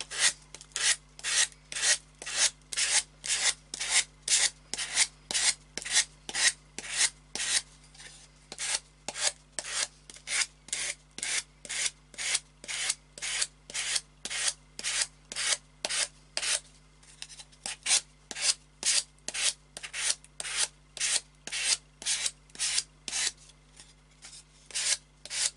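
Sandpaper is rubbed back and forth over the cut edge of a wooden wall plaque in quick, regular rasping strokes, dozens in a row, close and clear with brief pauses.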